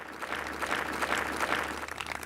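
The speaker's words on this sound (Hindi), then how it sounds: "ये शुरुआत होती है आपकी तालियों के साथ" A studio audience applauds at the opening of the Krishi Chaupal farming show, brief even clapping at moderate level.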